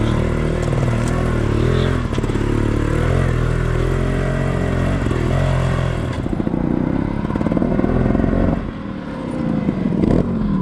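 A trials motorcycle engine revs and idles up close, rising and falling steadily throughout with some clatter as the bike works over terrain.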